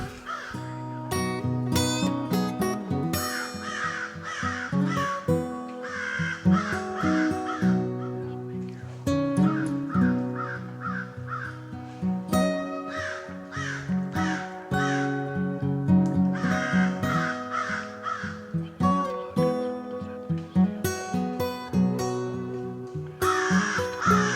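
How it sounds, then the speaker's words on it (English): Several crows squabbling and cawing close to a hunting tree stand in the woods, harsh repeated caws in rapid bursts and overlapping volleys throughout, loud and near, no speech. "I'd like to give a big thanks to the crows that decided to have a fight right by our tree stand."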